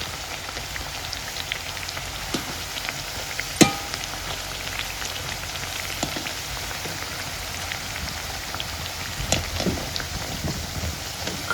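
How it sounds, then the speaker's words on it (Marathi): Sabudana vada frying in hot oil over a wood-fired stove, a steady crackling sizzle with scattered pops and one sharp louder crack partway through, no voices. "खडा खडा खडा खडा तेल आता उकळलेलं आहे"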